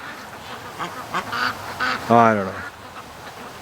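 Ducks quack and honk in a short excited burst near a man waiting with a rifle for a coyote outdoors, the calls loud and close with a voice speaking briefly over them.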